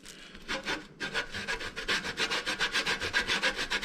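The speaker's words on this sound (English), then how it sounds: "I take the fine grating side of the box grater" Fresh horseradish root rubbed against the fine side of a metal box grater, a quick rhythmic series of rasping strokes, close and fairly soft, growing steadier toward the end.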